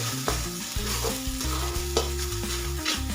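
Spiced cauliflower sabzi is stirred and fried in a pan, a steady sizzle running throughout with the scrape and clink of a spoon against the pan repeating every second or so, close and fairly loud with no talking.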